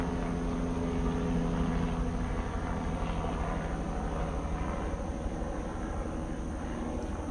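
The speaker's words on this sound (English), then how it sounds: "It's Nikki watching probably a traffic helicopter." A helicopter, probably a traffic helicopter, drones steadily overhead for several seconds, with a low continuous engine and rotor rumble and faint outdoor background and no talking.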